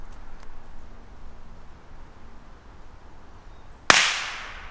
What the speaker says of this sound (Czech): ta petarda se normálně ani nerozletí, to prostě jenom pukne ten obal